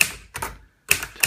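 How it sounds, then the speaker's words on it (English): A Mercedes Selekta manual typewriter in very good condition clacks nearby in quick bursts of key strikes with a brief gap between them. "This is a Mercedes Selekta typewriter."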